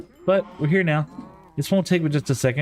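Cows moo in Minecraft, a few short lowing calls mixed in with someone talking close to the microphone.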